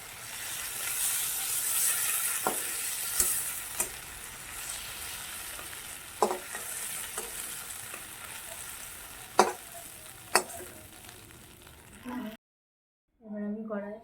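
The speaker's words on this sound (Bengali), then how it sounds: "বেশি চিংড়ি মাছ ভাজলে চিংড়ি মাছ শক্ত হয়ে যাবে" Prawns fry in hot oil in a wok, a steady close sizzle broken by a few sharp clinks of stirring, followed by a brief silence and a short spoken voice.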